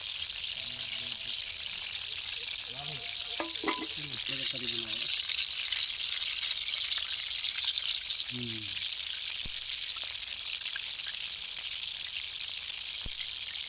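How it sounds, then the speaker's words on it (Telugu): Pieces of pulasa fish frying in hot oil, a steady bright hiss and crackle running throughout, close up, with brief bursts of speech early and midway over it. "వేడి నూనెలో చేపల ముక్క వేసినప్పుడు వచ్చే సౌండ్"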